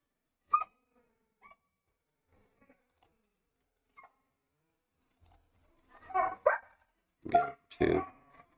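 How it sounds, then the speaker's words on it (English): Dogs barking in a home during an online card game session, a few scattered short barks early, then a louder close burst of several barks toward the end. "I'm sorry about my dogs."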